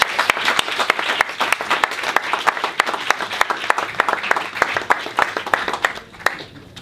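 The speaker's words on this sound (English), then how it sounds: "So please again a warm applause for Jack" A workshop audience claps for a speaker at a public speaking session: a sustained round of many hands with crisp individual claps standing out, moderately loud, then fading at the end.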